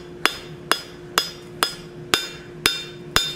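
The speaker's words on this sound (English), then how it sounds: "We're just using the flat of the hammer" Hammer flattening the face of a hot steel oak leaf on an anvil: seven sharp, ringing metallic strikes at an even pace about half a second apart, close and clear.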